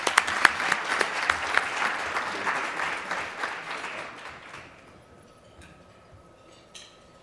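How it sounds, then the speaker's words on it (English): An audience claps at an awards luncheon, a dense, moderately loud round of applause that tapers off and fades to quiet after about five seconds. "let's give Ashley a big round of applause and congratulate her"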